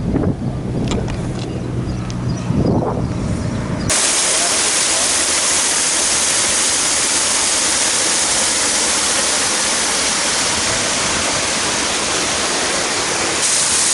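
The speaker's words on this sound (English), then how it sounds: "the hot spring with waterfall is over there" Steady, loud rushing water from a hot spring waterfall at Zarqa hot springs by the Dead Sea, Jordan, fills the clip, a constant roar, preceded by a few seconds of muffled wind and rumble.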